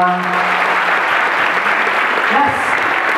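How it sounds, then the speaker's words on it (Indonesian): An audience at a pesantren public speaking event breaks into loud, sustained clapping that fills the whole stretch, with a voice briefly heard over it. "Tepuk tangan untuk kita semua."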